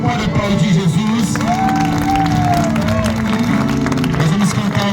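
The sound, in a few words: crowd applauding and cheering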